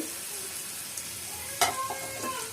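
Small shrimp frying in hot oil with onion, garlic and dried chili: a faint, steady sizzle with a few stirring scrapes and clicks, the sharpest near the middle, heard alone without talk.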